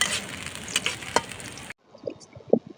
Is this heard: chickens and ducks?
no